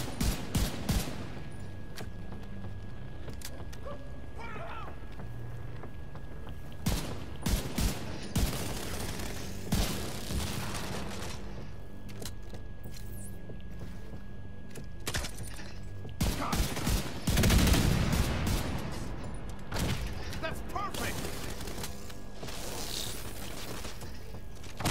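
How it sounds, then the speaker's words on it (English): Dense gunfire in The Division 2 runs for the whole stretch: rapid automatic bursts and single cracks come near and far, with mechanical clatter between them and a heavy blast partway through. "Get him to stop shooting at the turret."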